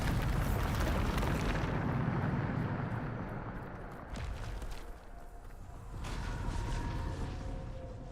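A Bombarda spell explosion in Hogwarts Legacy, a loud roaring blast that fills the opening seconds, then dies into a lower rumble with a few scattered follow-up booms and debris.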